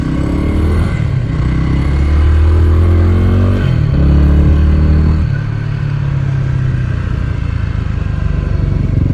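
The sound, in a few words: Stoplogic dirt bike motorcycle engine while riding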